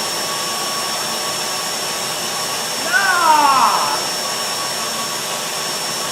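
A loud vacuum cleaner drones steadily close by, with a person's brief shout partway through.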